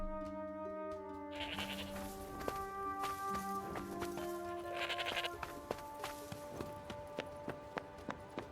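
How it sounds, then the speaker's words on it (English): Sheep in a cemetery in the Forspoken video game bleat repeatedly, several close, wavering calls over steady game background sound and soft footsteps, with no talking. "They keep sheep in the cemetery?"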